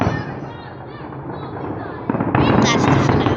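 Fourth of July fireworks finale bursting at a distance, a steady rumble of crackling explosions that grows denser and louder midway, with people talking over it.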